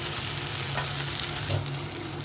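Carrots, capsicum, beans and onion cook in a stainless steel pan, giving a steady close sizzle and crackle with faint stirring bumps throughout, no voices.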